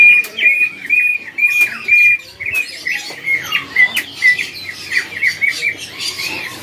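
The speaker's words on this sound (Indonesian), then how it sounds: "Oh gacor burungnya ya." A songbird at a bird market kiosk sings loudly and close, with repeated sharp whistles, chirps and squawky trills in quick succession and faint background noise.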